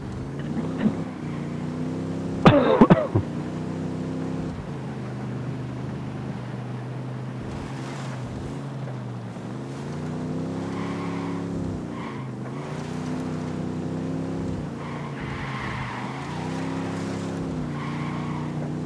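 Car engine under steady throttle in Ghost Recon Wildlands, with tonal whine rising and falling as the driver shifts and pulls the handbrake, plus a brief skid or impact burst near the start; continuous and fairly close, no talk.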